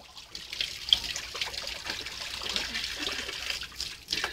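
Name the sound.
water being poured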